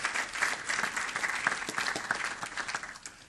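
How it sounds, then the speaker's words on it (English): A city council chamber audience gives a round of applause for a woman invited up front: a brief, moderately soft burst of many hands clapping, steady and unbroken throughout. "Why don't you come up here and give her a nice round of applause,"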